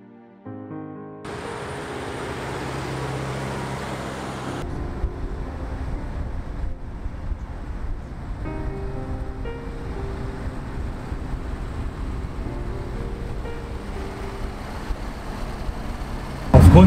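A 1965 Mercedes-Benz W110 drives along, its engine giving a steady low droning hum mixed with road and wind rush, moderately loud and continuous from inside the car, with a brief loud bump at the very end.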